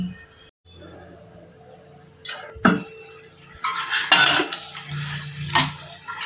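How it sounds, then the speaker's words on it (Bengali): Chicken being sautéed in oil in a pan over medium heat for a Kolkata-style chicken biryani, with scraping and clinking of a utensil stirring against the pan, a low sizzle underneath, and brief pauses between strokes. "মিডিয়াম আছে চিকেনটাকে একটু কষাতে দিলাম।"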